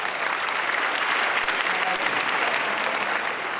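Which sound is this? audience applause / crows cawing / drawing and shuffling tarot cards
audience applause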